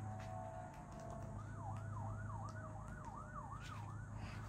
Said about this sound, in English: Sorry if you can hear the sirens in the back.